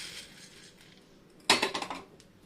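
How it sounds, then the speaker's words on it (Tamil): Roasted coriander seeds are poured onto a plate in a sudden rattling cascade of small hard clinks that quickly trails off, close and fairly loud. "ஒரு பிளேட்டில் கொட்டிக்கலாம்."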